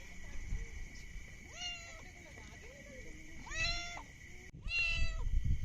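A cat meows several times nearby on a trail in India's Sahyadri Range, short rising cries spaced a second or so apart over faint outdoor noise and low voices.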